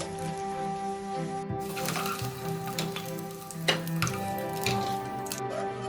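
Potatoes fry in hot oil in a pan, giving a loud, continuous sizzle and crackle with occasional stirring scrapes, close up and with no talking.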